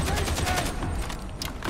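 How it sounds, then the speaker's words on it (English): Rapid gunfire from Warhammer 40K: Darktide, a dense continuous burst of shots that stays loud and close across the whole short stretch. "It appears I have been firing off one too many bullets."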